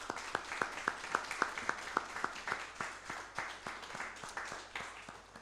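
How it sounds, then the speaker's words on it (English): A launch-event audience gives a round of applause, starting as sharp, evenly spaced claps that blur into a looser, fading patter of many hands, fairly quiet and with no talking. "and give yourself a round of applause."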